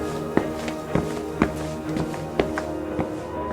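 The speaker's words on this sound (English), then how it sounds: "Footsteps. Slow, deliberate, like someone was dragging their feet just outside the classroom." Slow, deliberate footsteps drag down a school hallway outside a classroom, about seven evenly spaced heavy steps with a scuffing quality, close and clear with no talking.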